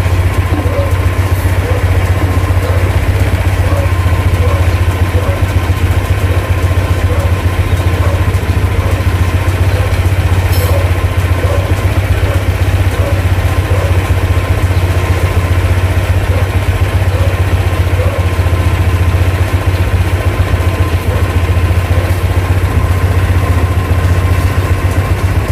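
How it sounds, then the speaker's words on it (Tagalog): A Honda Click 125i scooter engine idles steadily up close after an idle adjustment, a loud, even low rumble with a constant putter that never changes speed. "Normal lang yung idle niya"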